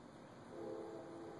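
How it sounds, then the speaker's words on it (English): A train sounds far off, a faint, low horn-like tone that swells briefly over quiet background noise. "What's that sound? Train."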